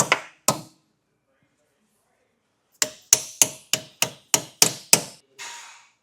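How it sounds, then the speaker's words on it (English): Hammer tapping the metal bumper tabs on a 2024 Subaru Ascent during a trailer hitch install: two sharp knocks, a pause, then a quick run of seven ringing metallic taps, close and loud. "we need to bend these tabs inwards on both sides. Just a couple taps of a hammer"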